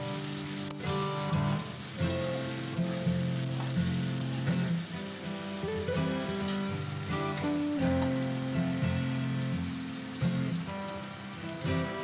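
Slit green chillies frying in a pan of oil, giving a steady, close sizzle that runs the whole time with no talk, alongside a harmonic background tone.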